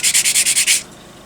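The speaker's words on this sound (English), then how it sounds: "if I can find my sanding stick, which is here. So it's literally just a very quick" Sanding stick rubbed briskly along the edge of a plastic model kit track part for an FV214 Conqueror Mk 1, seven quick close strokes in steady rhythm, then stopping into quiet.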